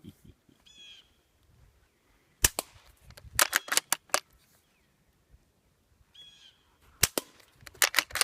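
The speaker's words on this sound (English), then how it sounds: "The noise you're hearing is the can being hit and not the gun itself." A suppressed gun is fired at a metal can outdoors, and each bullet strike rings as a sharp metallic crack. The hits come in two clusters of rapid shots, with faint bird calls between them.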